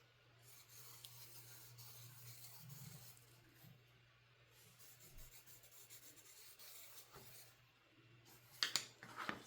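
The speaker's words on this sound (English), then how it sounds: "Using pencils I'm drawing 4 circles." Soft, steady rubbing and scratching of a pencil drawing circles on silk, continuous and close, with a few sharper rustles near the end.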